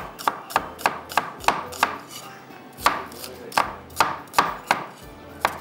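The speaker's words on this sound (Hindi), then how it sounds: "बस आपने स्लाइस में कटिंग करना है" Onions are sliced with a knife on a board, a run of about a dozen crisp, evenly spaced chops close up and alone, with a brief pause midway.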